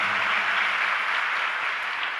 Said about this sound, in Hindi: बिल्कुल अच्छे ढंग से ताली बजाओ